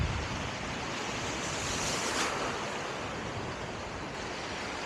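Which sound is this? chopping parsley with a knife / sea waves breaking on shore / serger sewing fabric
sea waves breaking on shore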